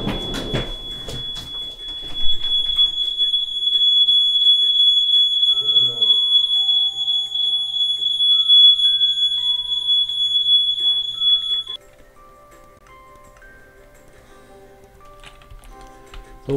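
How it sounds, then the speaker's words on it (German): A smoke detector going off indoors during a Minecraft Bedwars session, a shrill, high, steady electronic beep sounding continuously for about ten seconds, then cutting out, with brief clatter and game noises around it. "Da geht auf einmal der Rauchmelder an, warum auch immer."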